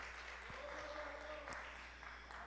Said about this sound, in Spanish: Give the Lord an applause.